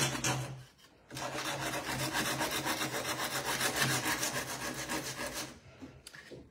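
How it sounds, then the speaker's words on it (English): Dry plaster from a stencil application is sanded by hand to smooth out hairline cracks, producing a loud, close, continuous rasping scrape in steady back-and-forth strokes after a short pause. "How to get rid of this is simply sand"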